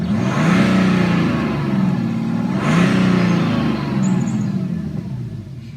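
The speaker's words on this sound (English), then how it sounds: "If you're curious to hear the noise this engine makes while being revved," A 2016 BMW X4 xDrive30d diesel engine revs twice in quick succession, each rise swelling and falling back to a steady idle, heard close and loud with no talking.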